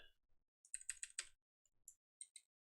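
Typing on a computer keyboard during a game development stream, a few quick bursts of close, crisp key clicks separated by short pauses, quiet overall and with no talking.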